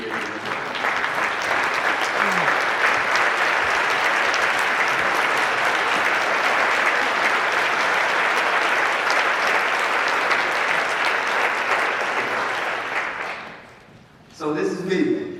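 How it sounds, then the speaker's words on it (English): A keynote audience gives a sustained standing round of applause, steady and loud, fading out near the end before a voice begins speaking. "just everybody stand up and give yourselves a round of applause just for being here"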